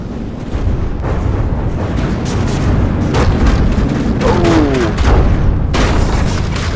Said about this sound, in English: Soaking up that missile strike